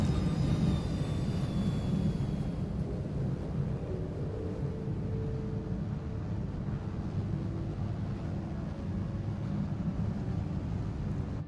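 A spaceship in forward flight in Star Citizen, wings folded and landing gear raised, drones with a steady, loud low rumble and engine whine that stays constant throughout with no talking.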